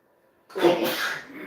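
A single loud sneeze bursts out after a short silence, close and sharp, trailing into a breathy exhale.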